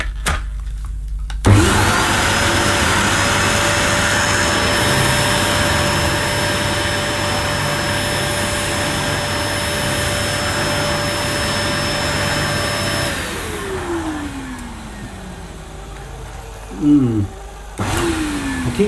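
A Dyson DC05 Motorhead vacuum cleaner switches on with a thump, then runs at a loud, steady roar with a high motor whine. It shuts off and the pitch sinks away as the motor spins down. A few faint knocks follow.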